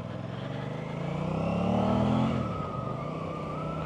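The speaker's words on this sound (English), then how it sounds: "you can hear that airbox noise, my goodness. That has got some serious induction noise" An Aprilia RS660 sport motorcycle pulls away in first and accelerates, rising in pitch with a strong airbox induction roar, then settles back as the revs ease off.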